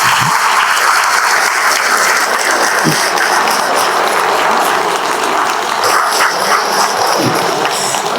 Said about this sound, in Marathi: फक्त एकदा टाळ्या तुम्ही तुमच्या आई वडिलांसाठी वाजवा